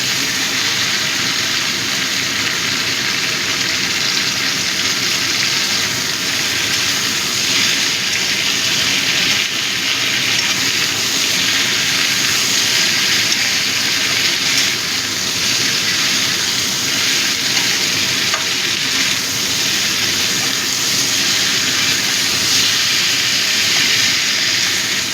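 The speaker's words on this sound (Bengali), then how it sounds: "এবার এই মশলার সাথে সবজিটা একটু ভেজে নেব।" Eggplant and drumstick vegetables fry in spices in a pan for sambar dal, a steady loud sizzling hiss running unbroken throughout with no voices.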